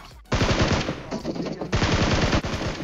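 Rapid automatic gunfire in the shooter game PUBG Mobile rattles off in two long sustained bursts, loud and close, with a short pause between them and no speech.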